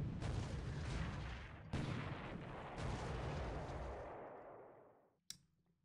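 Naval gunfire from destroyers and a battleship in a War in the Pacific video game: a continuous roar of heavy shelling with renewed blasts at about 1.7 and 2.8 seconds, fading out, then one sharp crack near the end.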